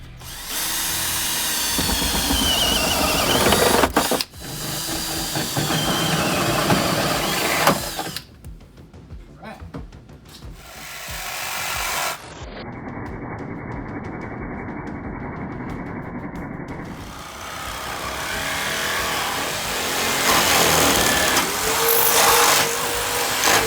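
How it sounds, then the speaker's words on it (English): A power drill bores pilot holes into a car roof, its motor whining loudly in sustained bursts that stop and restart, with abrupt pauses between runs and metallic grinding as the bit bites through the sheet metal. "I'm gonna drill some pilot holes in the roof so I know where to cut with my Sawzall"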